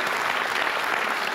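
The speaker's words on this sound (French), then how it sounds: "On peut les applaudir." A quiz show audience applauds the contestants in the final, a dense, steady burst of many hands clapping filling the room at close range with no talk over it.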